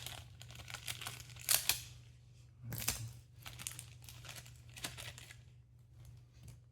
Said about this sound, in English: a little bit more Scotch tape on here. That's in a Ziploc bag.